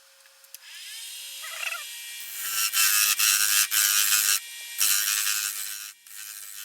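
Skew chisel cutting into the spinning base of a small wooden baseball bat on a wood lathe, a loud broadband scraping that starts after a quiet motor hum and comes in sustained bursts with brief pauses.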